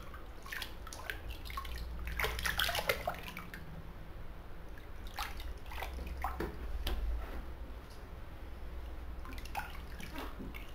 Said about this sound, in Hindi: चलिए थोड़ा सा पानी अब हम प्ले भी कर लेते हैं इसी में